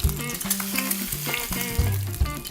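Short ribs sizzle in a small cast iron Staub skillet, a steady close frying crackle with soft clinks and tonal hums running through it; no one speaks.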